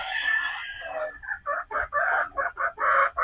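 Young pullet chickens at a poultry farm sound close and loud, with a drawn-out crow-like call followed by a rapid run of clucks and squawks.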